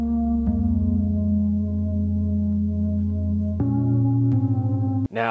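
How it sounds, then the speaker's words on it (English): Sustained synth chords from the Scarbo plugin by Teletone Audio, a simple progression of long held chords that change twice over a few seconds, steady and alone with no talk. "the sound you hear comes from Scarbo, which is by Teletone Audio"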